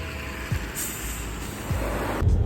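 A bus in Abashiri, Hokkaido, Japan pulls in near a lake with a couple of short air-brake hisses and thumps over a steady engine rumble, ending in a louder release of air.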